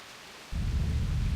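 A thunderstorm in the RPG Grandia II begins abruptly with a deep rumble and a steady rush of heavy rain after a brief quiet start.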